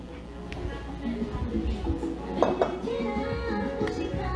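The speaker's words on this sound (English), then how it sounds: "I'll bring a different bowl for mix the tortilla." A mixing bowl and utensils clink and clatter in a home kitchen while preparing tortilla dough, scattered light knocks and scrapes with one sharper clank, under quiet background talk.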